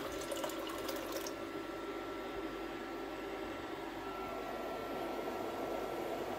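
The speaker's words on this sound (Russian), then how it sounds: "Заливаем горячей водой" Hot water pours steadily into a pot of pumpkin and millet porridge, a soft continuous rushing with a brief splashy start, fairly quiet.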